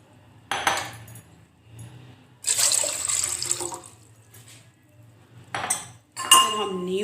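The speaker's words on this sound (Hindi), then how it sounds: "सबसे पहले हम पानी डालेंगे इसमें 2 गिलास।" Water poured from a glass into a pot for a homemade hair serum, two separate splashing pours with clinks of glass against metal and short pauses between, close and fairly loud.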